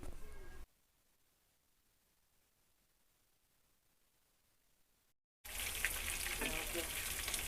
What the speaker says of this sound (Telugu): చక్కగా వేగుతున్న ముక్కలన్నీని చక్కగా ఫ్రై చేసిన అన్నీ అటువైపు ఇటువైపు మనం తిప్పుకుంటే ముక్క అనేది బాగా మనకి వేగుద్ది.